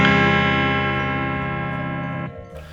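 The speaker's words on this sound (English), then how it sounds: "this is my Stratocaster, very lovely, and it sounds like this" A Stratocaster electric guitar rings out with a single sustained strummed chord that slowly decays, bright and close, before being damped near the end.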